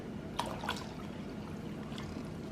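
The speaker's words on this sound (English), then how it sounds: "So I'm going to add 2 more cups of just water." Water is poured into a cooking pot, giving a soft, faint trickle and splash with a couple of brief louder gushes near the start.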